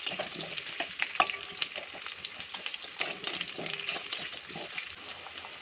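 Potatoes fry in hot oil in a pan over a medium flame for a vegetarian cabbage curry, a soft continuous sizzle broken by a few sharp spatula scrapes and clinks as they are stirred.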